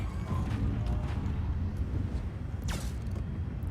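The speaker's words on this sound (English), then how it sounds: "Alright, photon torpedoes out." Torpedoes launched in World of Warships give a low mechanical rumble with creaks, a few faint clunks and a brief rising whoosh near the end, heard over a steady background of game noise.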